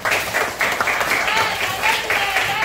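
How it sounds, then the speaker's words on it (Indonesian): A primary school class of third graders claps together in a classroom, a dense, steady patter of many small hands that fills the whole stretch, with children's voices mixed in. "Oke, tepuk tangan untuk kita semua."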